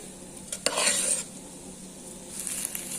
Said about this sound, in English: Now we will mix it well.